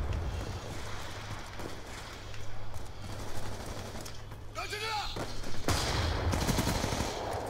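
Pistol gunfire in a sniping video game, heard as sharp shots mixed into busy game sound with a steady low engine-like drone and someone talking over it.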